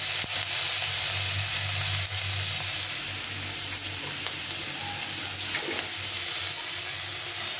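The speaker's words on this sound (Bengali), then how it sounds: "এখানে এক মুঠো মতো চিংড়ি মাছ আছে, এটাকে আমি ভালো করে এই তেলের মধ্যে ভেজে নেব" A handful of shrimp frying in hot oil gives a steady, close hiss and crackle that runs unbroken from start to finish, fairly loud, with no talking.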